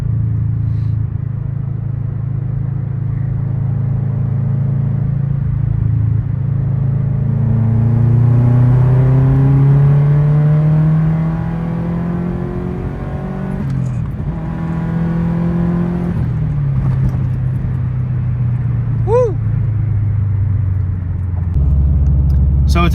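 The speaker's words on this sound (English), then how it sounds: "So this is going to be a 4th gear pull at 55 miles an hour." A car with a new drivetrain pulls hard in fourth gear from 55 mph, its engine note rising steadily as it accelerates, loud and close, with a rumble that fades into a higher whine near the end.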